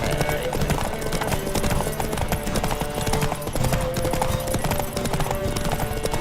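Rapid clip-clop hoofbeats of the horse Roach galloping in The Witcher 3, a fast steady rhythm with game music and someone talking over it.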